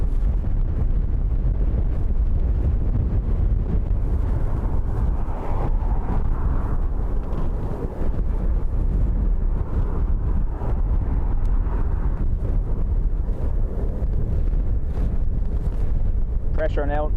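Strong storm winds of Storm Bram buffet the microphone at Dublin Airport, a continuous loud roar and rumble of gusts filling the whole stretch with no break.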